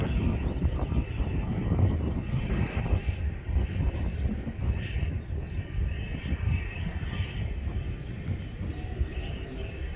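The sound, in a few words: small propeller plane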